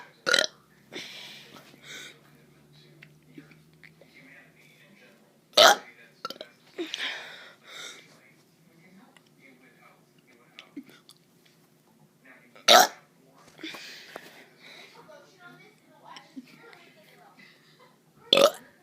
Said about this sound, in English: I'm doing some burps.